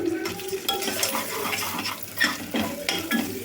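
Onions, ginger garlic paste and green chillies frying for kuska biryani, a steady close sizzle with a utensil scraping and stirring against the pan in quick, uneven strokes.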